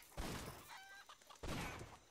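Chickens in the survival video game Cryofall give two short, faint clucking bursts with a brief pause between them.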